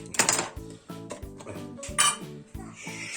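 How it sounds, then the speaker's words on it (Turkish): A jar of homemade canned tomatoes being opened, with a run of close, clattering clinks and knocks of glass and metal against a basin, several sharp taps spaced over a few seconds and no talk. "Buna ev yapımı şöyle domates konservem var. Bunu bir açalım öncelikle."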